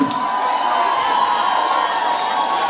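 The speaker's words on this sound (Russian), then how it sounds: "Аплодисменты." A loud crowd at a K-pop Halloween contest night cheers and shouts, with a dense, continuous roar and some high whoops over it.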